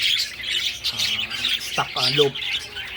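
Pet parakeets in a flight cage chatter and chirp together in a busy, bright twitter, with a few louder squawks near the middle. Someone talks briefly over the birds.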